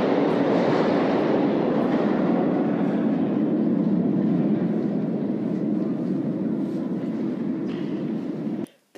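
A London Underground Piccadilly line train running between stations, with a loud, steady low rumble and roar of wheels and motors throughout, no talk, ending abruptly.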